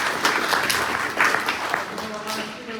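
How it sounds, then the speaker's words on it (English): Crowd applause for a presenter named Lindsay at an information session, a dense wash of clapping under a speaking voice that continues over it, fading slightly toward the end. "Let's give a round of applause for Lindsay"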